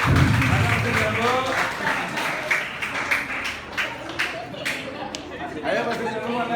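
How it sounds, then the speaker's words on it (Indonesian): Audience at a student community-service program closing ceremony in Bogor claps for a student group, scattered steady clapping mixed with crowd chatter and a voice talking over it. "Tepuk tangannya untuk Pasir Jambu."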